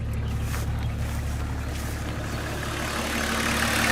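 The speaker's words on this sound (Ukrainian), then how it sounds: "Моторчик робить тихенько, ніяких зайвих звуків." A BMW E36 325 tds touring diesel engine idles quietly, a steady, low hum running continuously and evenly, with no revving or changes in pace.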